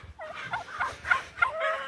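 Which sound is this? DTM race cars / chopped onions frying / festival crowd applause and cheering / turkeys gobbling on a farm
turkeys gobbling on a farm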